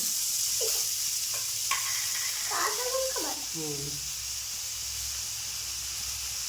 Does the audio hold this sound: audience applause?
no